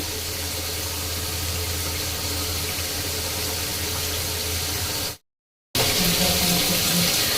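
Reserved bean cooking water pours steadily into curry masala for a vegetable kofta curry, a continuous close splashing stream broken by one brief gap before it resumes.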